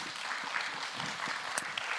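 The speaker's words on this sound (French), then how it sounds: "On peut l'applaudir, s'il vous plaît." Audience applause at a conference, a dense patter of many hands clapping at moderate distance for the whole moment, with no speech over it.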